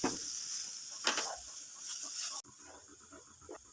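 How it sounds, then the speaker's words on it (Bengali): Cabbage frying in oil with garam masala powder, stirred in a pan: a steady high sizzle with a few scraping stirs, close and fairly quiet, briefly dropping in level partway through. "এইভাবে ভালো করে বাঁধাকপি ভেজে নিতে হবে তেলে। যতক্ষণ না তেল ছাড়ে ততক্ষণ নেড়ে যেতে হবে।"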